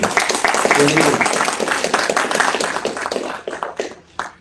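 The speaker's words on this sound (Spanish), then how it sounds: "Un fuerte aplauso, por favor, para Kena" Audience applause at a technical talk on LNG trade in Latin America and the Caribbean, brisk hand claps from a room that hold steady, then thin out into scattered single claps before stopping.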